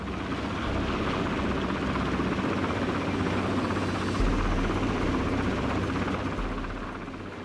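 A helicopter squeezes through a narrow pass in freezing mountains near Loch Lomond, its rotor thump and engine roar loud and continuous from start to finish, with the low rumble swelling briefly partway through.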